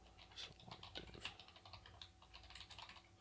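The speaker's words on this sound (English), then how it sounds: "That keyboard's loud as fuck." Rapid, clacky typing on a loud computer keyboard during a podcast recording, a dense run of sharp keystrokes, quiet and steady, with no talking over it.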